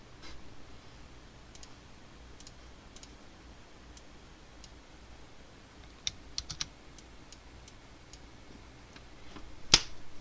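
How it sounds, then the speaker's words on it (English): A single sharp hand clap rings out near the end, louder than the few faint clicks and taps scattered through an otherwise quiet room. "Okay, that was a terrible clap."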